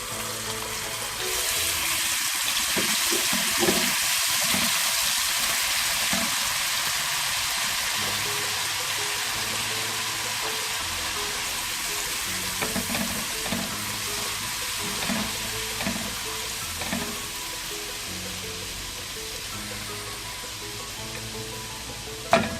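Ginger and garlic fry with garam masala in a pan for Balochi chicken biryani, giving a loud, steady hiss and crackle throughout, with occasional scraping stirs and a sharp clink near the end.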